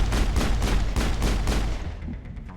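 Gunfire in the video game Mass Effect comes as rapid repeated shots in a loud rhythmic burst, close and punchy, fading out near the end with no talking.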